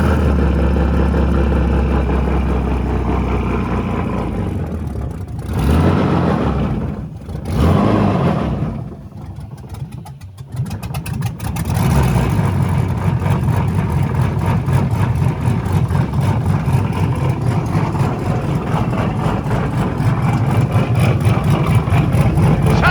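A car engine being restarted after stalling, its low rumble cutting out and dipping briefly before settling into a steady, loud idle that continues without talk.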